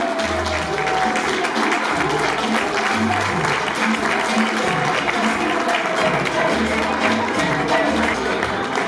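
An audience applauds at the Miss Perla 2021 beauty pageant at Villa Godi Malinverni, with loud, dense, sustained clapping throughout and an amplified voice talking over it.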